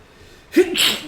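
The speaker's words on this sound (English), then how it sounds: "God, why am I sneezing so much?" A single sharp sneeze, close and loud, preceded by a quick inhaling catch of breath.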